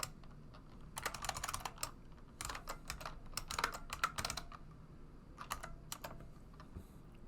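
Code being typed on a computer keyboard during a Unity game development session, quick irregular bursts of close key clicks with brief pauses between them.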